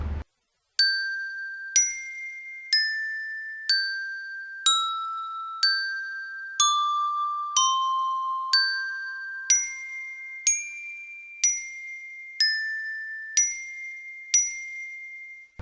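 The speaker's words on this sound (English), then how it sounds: "Here's what the Glockenspiel sounds like alone." A sampled glockenspiel from a free orchestral software instrument plays alone: about fifteen clear, bright struck notes in a slow, steady melody, each ringing and decaying before the next.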